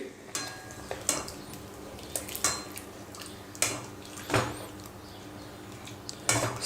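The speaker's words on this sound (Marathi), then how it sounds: "आता यात आपण हे गरम दूध टाकायचं आहे आता हे मी छान मिक्स करून घेतो" Semolina is stirred with hot milk in a metal pan, bringing scattered spoon scrapes and clinks against the pan at irregular intervals, close by and fairly quiet.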